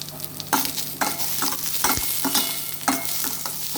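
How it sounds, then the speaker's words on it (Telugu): Onions fry in hot oil in a pan, a close, steady sizzle broken by repeated scraping strokes of a spatula stirring them. "ఆయిల్ హీట్ పెట్టుకొని ఈ ఆనియన్స్ వేసుకోండి అదే పాన్లో ఇవి కొంచెం లైట్ రెడ్డిష్ కలర్ వచ్చే వరకు వేసుకోవాలి"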